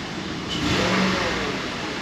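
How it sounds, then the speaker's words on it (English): A Cadillac Northstar V8 with a misfire gets a quick throttle blip. The engine note swells briefly and falls back to a steady idle, heard up close. "Let's give it some throttle blurps here."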